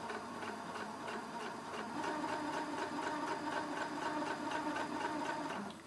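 Sewing machine top stitching pleats on a dress, a steady rapid needle chatter running continuously at moderate volume, picking up slightly in speed partway through.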